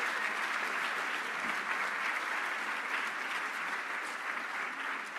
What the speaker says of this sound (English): Let's give one more round of applause for all those people who participated in the program.